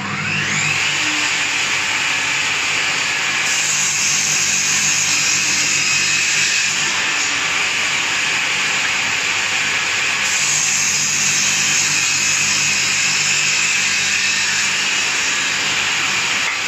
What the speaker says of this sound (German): Dann schneiden wir uns noch die Stützfüße zurecht.